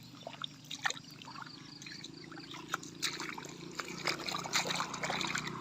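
Water trickling and dribbling out in a garden setting after rain, a steady low liquid flow with scattered small splashes, fairly close and moderately loud.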